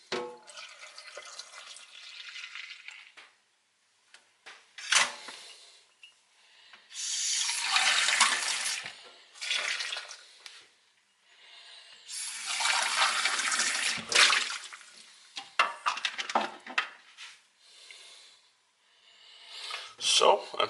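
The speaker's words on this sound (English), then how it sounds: "So I put water in here." Water is poured from a tap or jug into a container in several separate bursts of splashing and running flow, loud and close, with short quiet gaps between pours and a voice speaking now and then.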